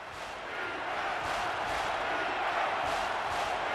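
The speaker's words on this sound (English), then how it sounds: "It's arguably the loudest crowd in the nation, and they are turning it up a notch." Loud stadium crowd roaring in an NCAA Football 14 video game during a Georgia Tech at Georgia matchup, a dense, steady wall of cheering that swells slightly and holds throughout with no clear speech.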